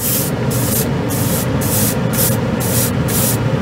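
A Harder & Steenbeck Colani airbrush sprays paint onto a Gunpla model piece, giving a loud, steady, close hiss whose bright top end pulses in a quick, regular rhythm throughout, with no talking.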